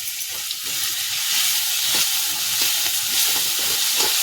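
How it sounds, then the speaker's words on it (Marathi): Green chutney fries for pithla, a bright crackling sizzle that swells louder after a second, with a few scraping stirs in the pan close by. "चांगलंच आज पिठलं हिरवी चटणी टाकते त्यामध्ये"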